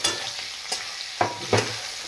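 Chopped onions hit hot mustard oil with nigella seeds and green chilli for a morola fish curry, a soft steady sizzle broken by several sharp stirring scrapes of a spatula in the pan.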